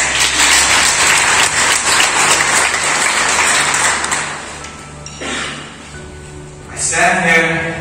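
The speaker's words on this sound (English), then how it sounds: "give ourselves a round of applause" Graduates applauding at a Class of 2021 graduation lunch, a broad burst of clapping that fades after about five seconds, followed by a few scattered claps and room noise.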